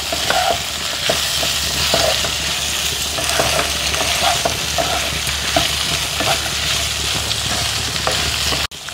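Homemade chilli chicken stirred and tossed in a hot pan, a steady sizzle of frying with repeated scrape-and-stir knocks throughout, close and fairly loud with no voices.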